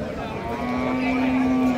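At a large, old cattle market at Nalitabari bazar in Sherpur, a cow gives one long, steady, loud moo over a busy crowd murmur.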